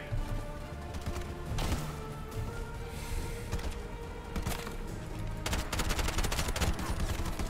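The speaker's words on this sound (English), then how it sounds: "Where else are they taking shots at me?" Gunfire in the video game Bright Memory Infinite: repeated shots and bursts ring out over a dense game soundscape, with a rapid run of cracks near the end.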